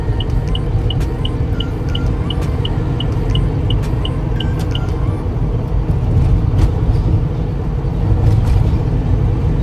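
A car driving on the Samruddhi Expressway, slowing for an exit after cruising near 120, gives a loud steady road rumble with a faint repeating tick throughout and no voices.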